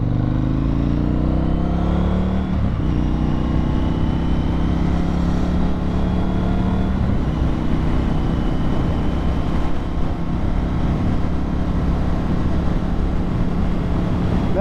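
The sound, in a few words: FTR 1200 motorcycle doing a hard stop with Brembo brakes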